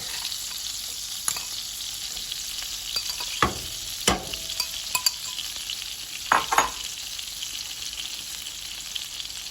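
Garlic sautéing over medium-low heat in a pan for garlic shrimp, with a soft steady sizzle and a few scattered spatula scrapes and taps.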